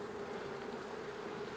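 Honeybees hum around an opened nuc hive during an inspection, a soft, steady buzzing drone with no voices.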